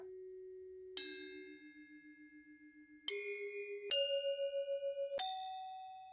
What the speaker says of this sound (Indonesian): Suaranya seperti ini untuk gangsa.